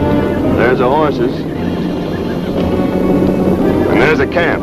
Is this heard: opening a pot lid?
no